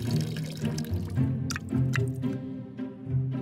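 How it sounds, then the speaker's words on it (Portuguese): Water is poured over the stones of a Poopsie toy craft set, a steady splashing trickle with a few sharp drips and no talk. "Vamos adicionar um pouco de água, nos certificarmos de cobrir todas as pedras."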